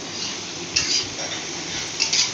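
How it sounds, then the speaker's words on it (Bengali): Chopped onions frying in oil in a wok, a steady broadband sizzle with a couple of brief stirring clatters, close and alone without talk. "এবারে কড়াইয়ের মধ্যে তেল দিয়ে পেঁয়াজ কুচি দিয়ে দিলাম।"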